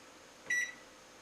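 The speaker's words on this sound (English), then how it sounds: "That's not timer, that's the microwave." A microwave oven gives one short, clear electronic beep, close by, in an otherwise quiet kitchen.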